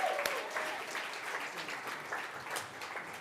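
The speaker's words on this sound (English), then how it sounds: "Everyone give Dave a round of applause." Audience applause at a React Miami developer conference as a contestant is called up on stage, steady moderate clapping from a crowd filling the whole short stretch.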